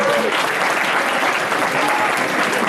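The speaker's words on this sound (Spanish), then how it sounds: "vamos a también a ella darle un aplauso" Audience applause at a Spanish-language talk, a loud, sustained wall of clapping from a crowd that fills the whole moment evenly.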